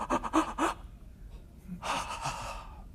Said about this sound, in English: you end up taking some deep breaths, and this is the way your breaths sound